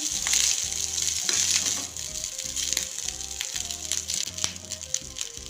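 Vegetables, rice and fresh coriander frying together in a pan for spicy masala fried rice, a bright continuous sizzle with rhythmic scraping and tossing from stirring, up close, with no talking.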